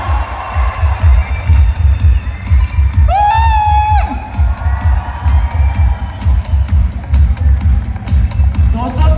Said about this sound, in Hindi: जोरदार तालियां हैं आवाज से